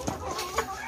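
Farm chickens cluck, short throaty fowl calls in a brief, fairly faint burst against a busy yard background.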